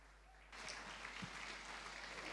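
Faint audience applause at an awards event breaks out suddenly after a quiet moment and continues as a distant, even patter.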